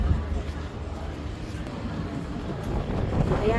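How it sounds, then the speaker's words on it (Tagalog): Strong wind buffeting the microphone at an outdoor food festival, a steady low roar and rumble that swells toward the end, with people talking under it. "It's getting windy now."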